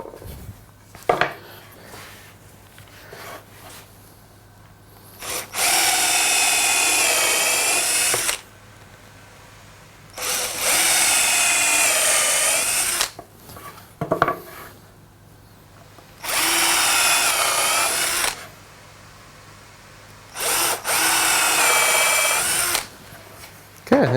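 A power drill boring screw holes and a dowel hole into wooden handle ends for a portable toolbox, in four loud whirring bursts of a few seconds each, separated by quieter pauses with light workshop noise.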